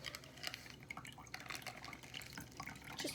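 Water drips and trickles steadily from a squeezed napkin used as a coffee-grounds filter, a close, continuous patter of liquid falling into collected water.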